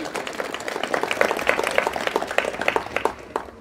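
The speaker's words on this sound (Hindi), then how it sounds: "ऐसे पदाधिकारी के लिए हम चाहेंगे एक बार जोरदार तालियों से" Loud, dense applause from an audience at a village education gathering, many hands clapping in a steady rapid patter that swells and then tapers off over several seconds.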